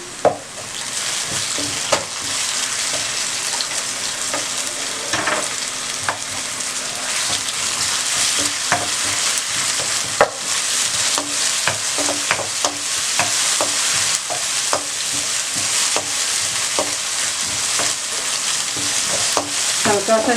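Garlic paste and onions fry in oil in a pan for a spinach egg curry, giving a steady close sizzle with frequent scrapes and clicks from stirring throughout, and no talk.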